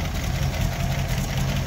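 A 1936 Buick Model 60 Century engine idles steadily with a minor exhaust leak at a joint, giving a continuous low rumble with faint ticking pulses, close and even throughout.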